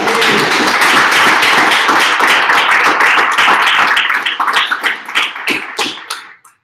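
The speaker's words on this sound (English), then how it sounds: "how about a round of applause?" Audience applause at an Ember 3.0 tech talk, dense clapping from a crowd, loud and sustained before thinning out and fading over the last couple of seconds.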